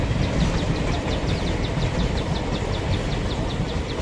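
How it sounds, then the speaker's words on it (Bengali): Mayurakshi Passenger train on its Dumka-to-Howrah run pulls into Suri railway station, a steady broad rumble and rolling clatter holding at an even level throughout, with no voices. "এই কুড়ি মিনিট লেটে ঢুকছে সিউড়ি রেল স্টেশনে ময়ূরাক্ষী প্যাসেঞ্জার"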